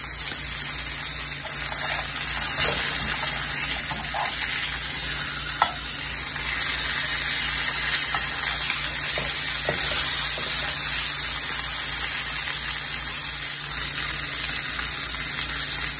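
Steaks sizzle loudly and continuously in a hot cast iron pan, with a steady broadband fry and occasional soft scrapes and clicks as the meat is flipped again and again; no one speaks.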